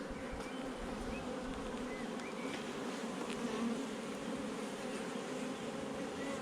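Honey bees buzz inside a hive over nectar-filled brood comb, a close, dense, continuous hum with occasional higher individual wingbeats rising above the drone.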